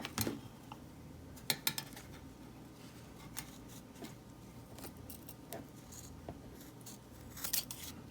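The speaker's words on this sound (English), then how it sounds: "I'm going to snip off this this fabric at the top" Scissors snipping Ankara fabric off the top of a wire-wrapped cowrie shell earring, a few sharp close clicks of the blades among light metallic handling sounds over a faint steady background, no talking.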